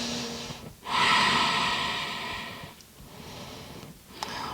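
Deep breathing during a morning yoga routine on a mat: a long, loud inhale-exhale near the microphone, followed by quieter breaths and a faint sniff, with no talking.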